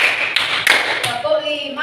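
Three quick hand claps, close and fairly loud, land in a counting rhythm over someone talking.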